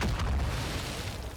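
A single deep, rumbling explosion from the Call of Duty video game, running on an RTX 2070 Super. It booms loudly at once, then rolls off into a fading low rumble with no voices.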